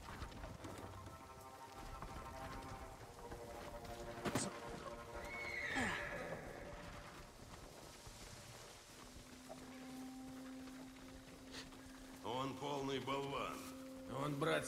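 Horses in the video game Ghost of Tsushima on PS5 whinny loudly several times over steady clip-clopping hooves, with voices speaking at intervals throughout.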